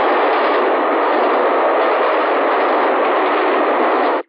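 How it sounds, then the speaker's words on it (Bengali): An approaching train gives a loud, steady, unbroken rushing roar that holds at full strength for about four seconds, then cuts off abruptly. "এক্ষুনি ট্রেন আসছে"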